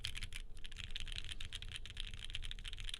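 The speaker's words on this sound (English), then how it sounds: "But I like the sound of this. It's really nice. I mean, these are PBT keycaps" Fast typing on a mechanical keyboard fitted with PBT keycaps, a dense run of crisp, clacky keystrokes in quick irregular rhythm, close and fairly quiet, with no talking.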